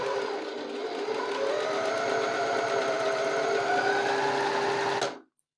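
An overlock serger stitching a three-thread seam, running as a steady close whir for about five seconds before stopping abruptly, with no talk.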